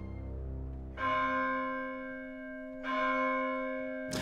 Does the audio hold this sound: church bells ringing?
yes